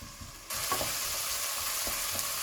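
Tomato and vegetables sweating down in a frying pan, a loud steady sizzle that starts abruptly and carries on, with a few soft stirring knocks underneath.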